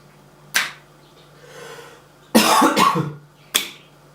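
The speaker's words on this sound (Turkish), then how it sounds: "Kusura bakmayın öksürdüğüm için." Three sharp coughs, a single one, then a longer burst of two or three, then one more, with no talking around them.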